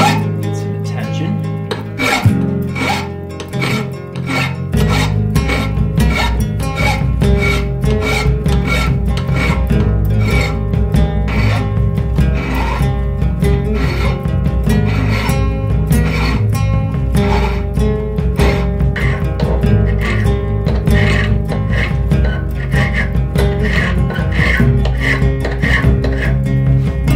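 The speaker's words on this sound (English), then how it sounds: "now I'm just going to use a file on a few areas on the profile that I think need some attention" Steel file rasping over the profile of a hand-forged bushcraft knife blade, with steady, evenly spaced strokes repeating close up for the whole stretch over a constant tonal background.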